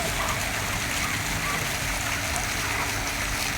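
Water rushing and pouring heavily in Davao, a steady broadband roar that fills the whole clip at close range with no pauses.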